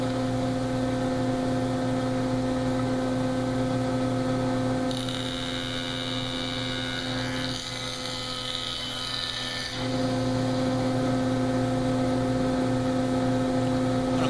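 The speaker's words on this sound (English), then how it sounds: "The joiner is set for a little over a 1/16 of an inch and run it through." Woodworking jointer with its steady motor hum running, then a board fed across the cutterhead for a loud, harsh planing burst of several seconds before the machine returns to its even hum.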